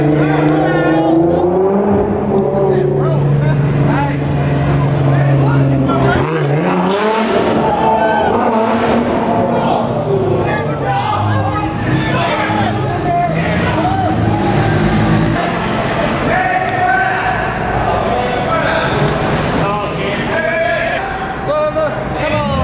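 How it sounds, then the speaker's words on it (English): Cars do burnouts inside a tunnel at a Formula Drift event, with loud engine roar, revving and drawn-out tire squeal echoing off the walls while people talk over the din. "There's a lot of burnouts happening right now, I think, down in this tunnel though"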